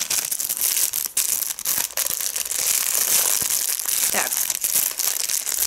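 Close-up crinkling and crushing of plastic bags, dense crackly rustles with a few sharp snaps and a brief louder swish near the end.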